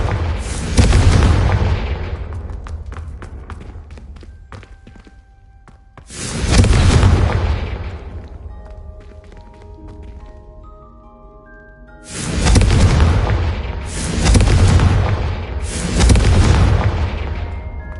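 Confringo blasting-spell explosions from a Harry Potter video game: three loud booming blasts with long rumbling decays, the last one doubled into a pair of bursts, with quieter tones ringing between them and no talking.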